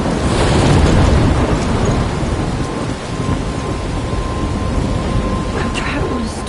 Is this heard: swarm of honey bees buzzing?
no